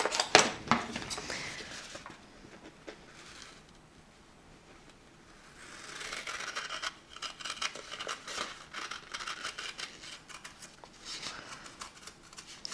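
Treasured sewing scissors cut felt along a paper template for a scalloped heart garland, crisp snipping and rustling in close bursts separated by quieter pauses.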